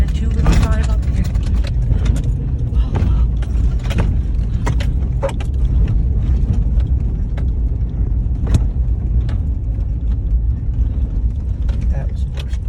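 A car grinds up a rough, rutted trail toward a West Virginia waterfall that a two-wheel-drive vehicle could not climb, its engine rumbling under rattling and jolting clunks while people chat inside.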